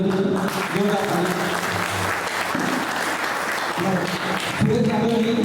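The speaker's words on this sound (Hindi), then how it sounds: "विशिष्ट गेस्ट अनिल यादव जी की जोरदार ताली।" Loud, sustained applause for a distinguished guest at a community Janmashtami celebration in Vapi, steady clapping throughout with voices and background sound mixed underneath.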